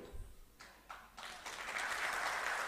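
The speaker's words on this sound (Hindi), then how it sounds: "नहीं ताली मत बजाइए" Audience applause at a political speech, starting with a few scattered claps and building quickly into steady, fuller clapping.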